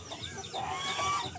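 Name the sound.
chickens clucking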